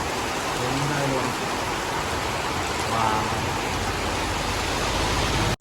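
Heavy rain in the Ponmudi hills pours as a steady, dense roar of broadband hiss, loud and unbroken throughout, with faint voices briefly audible beneath the downpour early on.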